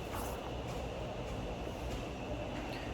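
Subway train running on the morning commute after the holidays, a steady close rumble with rail noise and faint wheel clatter continuing throughout, no one speaking.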